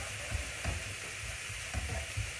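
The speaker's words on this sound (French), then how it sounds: "Donc là vous colorez un petit peu vos oignons, mais pas de trop" Onions for a green vegetable pan dish with courgette frying and lightly colouring in a pan: constant close sizzling with soft scraping stirs at intervals, no voices.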